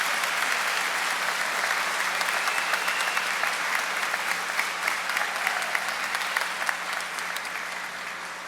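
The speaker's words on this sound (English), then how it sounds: "Please give a huge round of applause to Mr. Austin Schlegel for his accomplishments" Graduates' families and guests at an academy graduation ceremony applaud for a graduate in a full, sustained round of clapping that stays strong before easing slightly at the end, with no talk over it.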